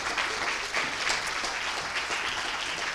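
An audience at a thesis-presentation final applauds steadily for the full stretch, dense and even, with no voices standing out.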